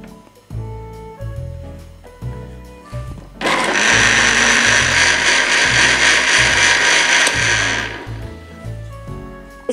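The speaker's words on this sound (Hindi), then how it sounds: "एक बार फिर से हम ग्राइंड करेंगे तकरीबन 30 से 35 सेकंड तक।" Blender grinding strawberry lemonade with lemon juice, a loud steady high whirring that runs about four and a half seconds, with background music before and after.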